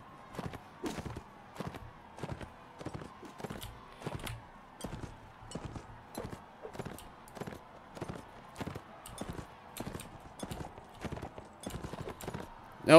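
Horse hooves clip-clop in a steady galloping rhythm as a rider moves through a Mount & Blade: Warband game, evenly spaced thuds at moderate volume with no talk over them.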